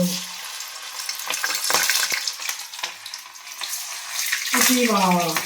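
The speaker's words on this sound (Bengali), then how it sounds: "ভাজা হচ্ছে" Small besan-coated fish frying in hot oil make a loud, close, continuous crackling sizzle with brief stirring sounds, and a voice briefly joins near the end.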